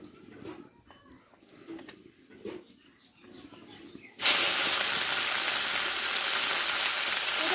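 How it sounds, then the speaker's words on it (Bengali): Onion, garlic and ginger paste hits hot oil with a sudden loud hiss that stays strong and steady, after a stretch of quieter clatter and faint kitchen noise. "ভালো করে ভেজে নেব আদা রসুন পেঁয়াজটা একটু ভালো করে আমি ভেজে নেব"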